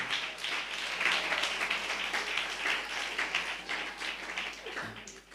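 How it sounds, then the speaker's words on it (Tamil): A church congregation claps their hands together in thanks to the Lord, steady moderately quiet clapping with no talk, tapering near the end. "நல்ல கைத்தட்டி ஆண்டவருக்கு நன்றி சொல்லலாம்."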